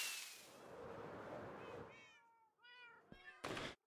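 A cat lets out a few short meows close by after a stretch of broadband rustle, followed by a sharp knock and a brief burst of noise.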